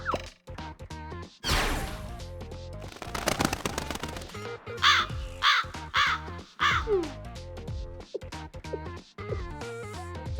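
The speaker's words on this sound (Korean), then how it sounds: "까마귀." Crows caw repeatedly in the video game Blue Archive, several harsh calls mixed with game music, sharp impacts and crashing effects.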